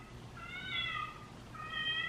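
A house cat lets out two drawn-out, fairly quiet meows, one after the other, with a short pause between them and nothing else in the background.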